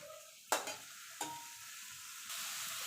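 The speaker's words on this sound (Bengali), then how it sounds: "দিয়ে ভালো করে ডিমের সঙ্গে মশলার সঙ্গে ডিমগুলোকে কষিয়ে নেব।" Eggs sizzle with a spice masala in oil for an egg curry, with a couple of sharp spoon strikes and scrapes over a low, steady frying hiss, quiet and close, and no talking.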